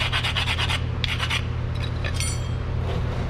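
A 2015 Toyota Camry rear brake pad is ground down on both sides to fit the caliper, giving a few short bursts of harsh rasping and scraping, close by, over a low steady hum, without talk.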